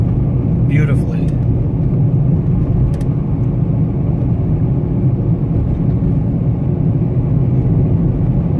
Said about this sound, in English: Of course, this car is running beautifully.